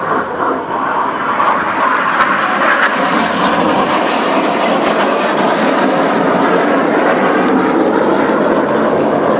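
RAF Red Arrows jets roar past at the 2013 Clacton-on-Sea air show, a loud, continuous engine rush that holds steady for several seconds with no voices over it.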